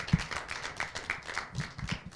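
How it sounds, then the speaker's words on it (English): At a Ghanaian Doctors & Dentists Association UK event, a modest round of applause for the registrar makes soft, scattered clapping from a small audience, fairly even and moderately distant. "Please, can we give a round of applause and welcome our registrar, Divine Banyubela."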